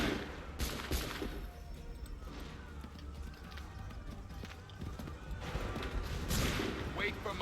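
A musket volley rings out in Assassin's Creed III Remastered, with sharp scattered gunshot cracks over a busy game background that includes hoofbeats and distant battle noise.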